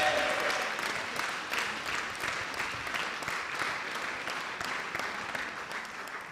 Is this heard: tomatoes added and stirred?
no